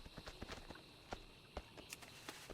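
Faint, quick clip-clop of horse hooves in World of Warcraft, a steady walking rhythm of small taps, quiet and somewhat distant.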